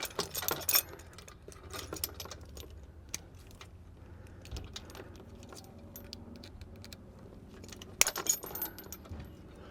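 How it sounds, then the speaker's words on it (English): Small metallic jingles and clicks as a metal cotter pin is worked out of a travel trailer hitch, with bursts of close rattling at the start and near the end and quieter fiddling in between. "I've got this cotter pin here. I'll take that out"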